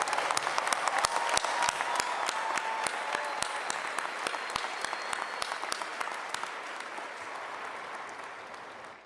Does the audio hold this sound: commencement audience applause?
yes